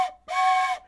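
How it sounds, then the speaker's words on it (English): A hand-blown whistle used in puppy crate training gives two loud, close, shrill blasts: a very short toot followed by a longer sustained one, with no talking. "And again, I just wanted a chance to blow the whistle."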